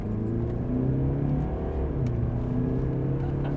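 An SUV, either a BMW X5 or a Mercedes GLE, accelerates during a high-speed driving test, heard from inside as a steady engine drone with rising tones and a rush of road noise, with no talk.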